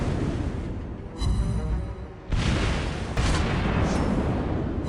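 Naval gunfire and shell hits in the World of Warships Blitz video game, with a Japanese cruiser in battle, heard as dense, loud booming salvos that swell in several broad bursts across the stretch.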